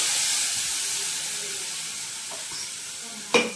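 Cashew, melon seed and green chili paste hitting a hot pan with cloves for paneer gravy, a steady hissing sizzle that fades slightly, ending in a sharp clatter.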